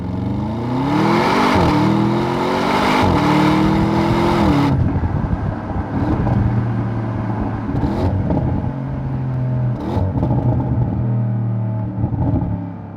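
An Audi S6 engine pulls hard while driving, rising through gears with a throaty roar, then settles into a rumbling cruise with tire and road noise.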